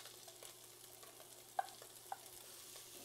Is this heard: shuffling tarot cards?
no